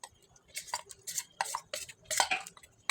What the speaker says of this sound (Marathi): चमच्याच्या साहाय्याने सोप बेस एकसारखा ढवळत राहायचा आहे.